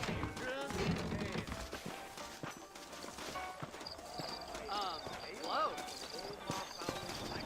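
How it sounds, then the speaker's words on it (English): Horse hooves clip-clop on a dirt road in the western video game Red Dead Redemption, a steady trotting patter from saddled horses heading out of town, with occasional snorts under game music and ambience. "I got the horses saddled up and ready out front."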